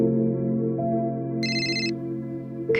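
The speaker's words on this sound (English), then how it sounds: "his phone rang" A phone rings with a steady electronic tone over a sustained musical bed, a brighter burst of ringing rising partway through, fairly loud and clear.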